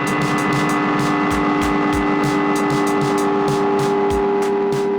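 Ableton Live 10 Echo delay with feedback cranked up, producing a dense, loud sustained tone with repeating pulsed echoes stacking in a steady rhythm, harsh and continuous without any talking.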